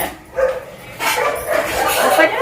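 Dogs bark and yip in short bursts near a home, mixed with overlapping people talking and laughter, the barks loud and close.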